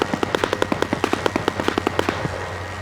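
A gunner's guns fire in rapid, evenly spaced bursts in a WW2 dive bomber video game, sharp cracks repeating close and fairly loud for under three seconds, with no voices.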